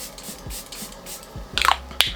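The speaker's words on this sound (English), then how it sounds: "So I'm gonna go in with my Charlotte Tilbury setting spray." A makeup setting spray by Charlotte Tilbury is misted onto a face, a couple of brief close hissing puffs near the end after quiet handling sounds.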